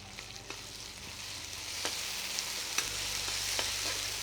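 Onions and ginger garlic paste sizzle steadily in a pan for a chicken kulambu while a spoon scrapes and stirs them, giving soft intermittent clicks over the constant hiss of frying.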